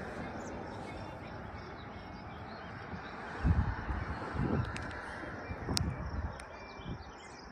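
Crows caw outdoors on a sunny June day by Okanagan Lake in West Kelowna, British Columbia, a few scattered calls rising over a low hiss of wind and ambient noise.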